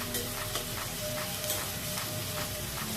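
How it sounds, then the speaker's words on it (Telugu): Onions frying in oil with green chillies and a bay leaf for a spicy chicken curry, a dense continuous sizzle with soft stirring scrapes close by and no talking. "ఇప్పుడు ఆనియన్స్ మంచిగా కలర్ వచ్చే వరకు ఫ్రై చేసుకోవాలి"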